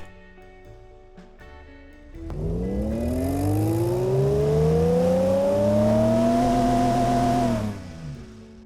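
A car engine in the video game Automation revs steadily up on a dyno pull, a smooth rising drone lasting about five seconds before cutting off, loud and alone.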